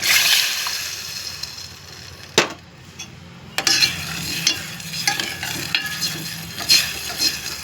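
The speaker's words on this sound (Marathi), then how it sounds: "आता एक वाटी आपण ह्याच्यात पाणी टाकून देणार आहोत" A bowl of water is poured into a hot cooking pan for a fasting-style upma of vari rice, setting off a loud, steady sizzle and hiss with sharp clattering stirs and knocks of utensils throughout.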